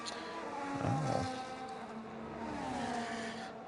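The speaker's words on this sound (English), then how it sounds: "as Kryptonic slides. A little bit of a Tokyo drift there through Sector 1" A Can-Am racing car engine whines as tires squeal briefly in a slide, the pitch dipping and rising, fairly faint under steady racing game background noise.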